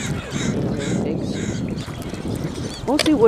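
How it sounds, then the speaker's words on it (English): Wood ducks on open water call with scratchy, squeaky notes, heard alongside other waterfowl close by, while a person talks over them throughout. "Mostly wood ducks here."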